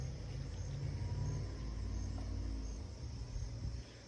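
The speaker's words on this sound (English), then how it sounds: "What's that noise? Oh, that's the brown truck, UPS." A UPS delivery truck rumbles past outdoors, a steady low engine drone that holds for several seconds before easing slightly.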